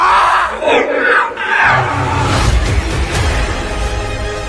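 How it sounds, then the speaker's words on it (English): A lightsaber from the Star Wars Maul animated series with a human scream built into its hum, loud and harsh, sweeping through several yelling, crowd-like swells before settling into a steady roaring buzz. "You actually hear the sound of Sam screaming built into the saber."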